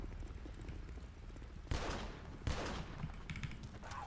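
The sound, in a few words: gunfire in a video game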